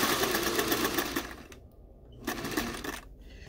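A sewing machine stitching a dress zipper seam, a rapid mechanical whir in bursts with two short pauses, close and fairly quiet.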